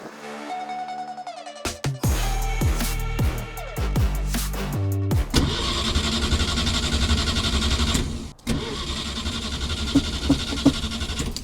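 A ZAZ Zaporozhets car, struggling after carburetor repair work, cranks with a rapid, uneven starter chatter before the engine catches and runs with a loud, rough, steady roar nearby, dropping briefly before continuing.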